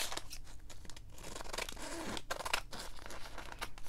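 Scissors cutting through rice paper, a steady series of close, crisp snipping and crinkling strokes with brief pauses between cuts, fairly quiet throughout.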